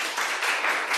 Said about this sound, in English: you did get a very good round of applause